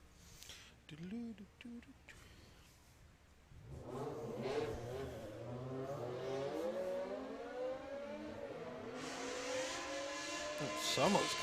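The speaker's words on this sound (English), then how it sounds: "Someone's car sounds nice." A performance car, likely a BMW, revs and accelerates away at a drag racing event, its engine note climbing steadily and loudly over the crowd and commentary heard in the background.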